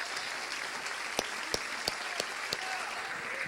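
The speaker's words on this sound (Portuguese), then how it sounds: "Podem aplaudir bem forte a Jesus." A church congregation claps in a sustained wash of applause, with a few sharp, louder individual claps standing out near the middle, heard slightly distant in a reverberant hall.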